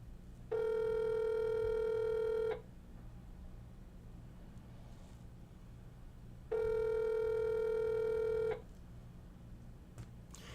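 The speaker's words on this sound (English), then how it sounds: "His phone doesn't even sound right." An unanswered telephone call rings out twice, each ring a loud two-second electronic trill separated by a pause of about four seconds, over a low background hum.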